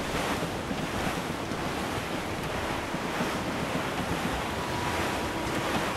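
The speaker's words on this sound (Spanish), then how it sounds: "El viento es más fuerte." Wind and ocean waves surround a schooner under sail in Assassin's Creed IV: Black Flag, a continuous loud roar of rushing air and breaking surf with no pauses.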